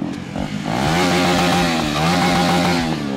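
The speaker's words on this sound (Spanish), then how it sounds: "Una KTM 250, poderosa." Modified KTM 250 motorcycle engine revving loudly and continuously up close, its buzzing harmonic pitch rising and falling with the throttle, with no talk over it.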